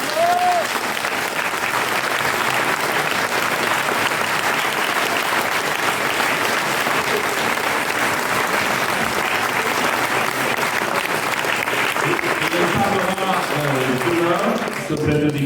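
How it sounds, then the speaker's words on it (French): Sustained applause from an audience in a public meeting hall, dense even clapping filling the room for the whole stretch, with voices emerging near the end as it subsides. "Et je voudrais d'abord qu'on l'applaudisse."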